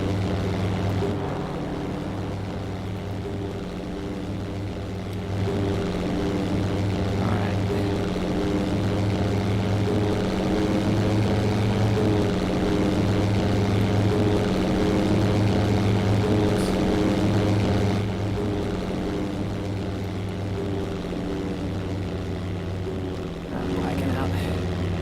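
A WWII fighter's propeller engine drones at full throttle in the European Air War flight game, a steady loud rumbling hum with a slow pulsing beat that holds almost without a break.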